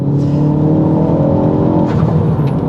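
A Dreamscience Stage 2 tuned Mk4 Ford Focus ST accelerating hard, its engine droning loud and close in a steady, rising pull with no voices over it.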